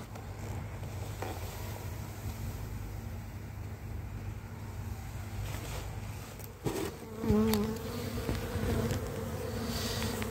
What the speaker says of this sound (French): il y a quelques abeilles ici, il y a quelques abeilles là